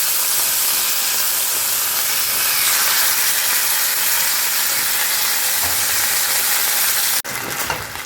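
Chicken pieces fry in a little white cooking oil in a wok, a loud, dense sizzling hiss that fills the whole stretch without letup, then a brief dip and a sharp clatter near the end.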